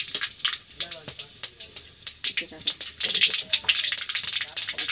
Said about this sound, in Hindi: मैं अभी सरसों का तड़का दे रही हूँ।